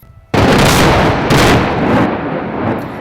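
A sudden, very loud dynamite blast set off to clear a landslide above the Boite river near Perarolo rips out, followed by a deep rumbling roar and a second surge that fades into a long, fading echo.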